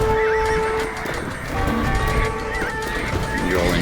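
Cavalry horses in a video game battle whinny loudly and repeatedly over a busy clatter of hooves and combat noise, the calls overlapping close by.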